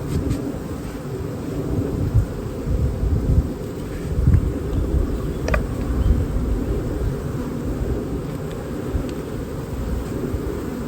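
Honey bees hang in a dense, steady buzzing drone over full hive frames in an apiary super, close and continuous, with a faint click or two breaking through.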